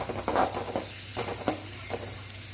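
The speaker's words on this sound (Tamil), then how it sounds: "வெங்காயம் நல்லா பொன்னிறமாக செவந்து வர்ற வரைக்கும் நல்லா வதக்கிக்கலாம்" Onions sautéing in oil for a Chettinad bitter gourd tamarind curry, a soft steady sizzle broken by several scraping stirs of a spoon against the pan, close and fairly quiet with no talking.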